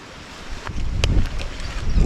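Strong wind buffets the microphone at a muddy oyster shore, gusting rough rumbles with a few sharp clicks and rustles, rising louder toward the end.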